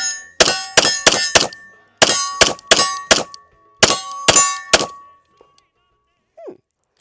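A stainless steel pistol fires 124 grain rounds in quick bursts, about a dozen sharp, loud reports with a metallic ring, grouped in three strings separated by short pauses, then quiet.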